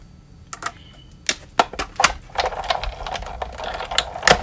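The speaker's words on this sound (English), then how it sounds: "now I'm going to get the big shot, and we're going to cut that one out using the Ornate Frames die" A Big Shot die-cutting machine cranks paper through with an Ornate Frames die, giving close, sharp mechanical clicks and ratcheting clunks that grow denser and louder toward the end.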